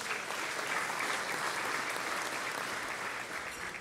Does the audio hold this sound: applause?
yes